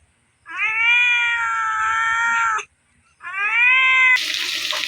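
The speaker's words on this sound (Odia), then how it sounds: "ଇଏ ଆମର ବିଲେଇ" A house cat meows twice, long drawn-out cries close by with a short pause between, followed by a brief burst of running water.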